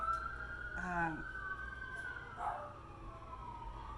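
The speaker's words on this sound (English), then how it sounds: "because the sirens and ambulances are still going" An emergency vehicle siren wails in the distance, rising and falling steadily, with a brief muffled voice partway through.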